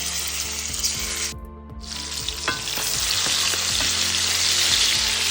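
Spices and mustard seeds frying in oil for fish pickle, a loud dense sizzle with a brief dip, then crackling pops and stirring taps building steadily, no talking.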